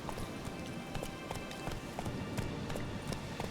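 Video game horse galloping, a quick steady clip-clop of hooves drumming in a fast even rhythm, moderately close for a few seconds with no one talking.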